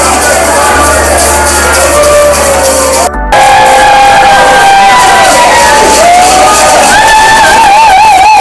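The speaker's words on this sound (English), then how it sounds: "they sent us off with a cheering crowd" Loud, close crowd cheering at a conference send-off in St. Louis, with excited whoops and shouts over a dense roar of voices, cut by a short break partway through before the cheering resumes.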